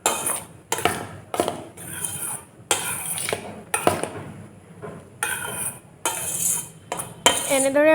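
A spoon stirs homemade liquid dishwashing soap in a container, clinking and scraping against the sides in a steady series of close, fairly loud strokes with brief pauses between them.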